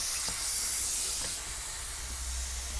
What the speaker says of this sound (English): we've got the steam is cleaning the grime off the windows.